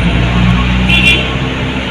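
Heavy road traffic crawls in a jam near Jambi, heard from inside a truck cab as a steady low engine rumble with a short high tone, like a distant horn, near the middle.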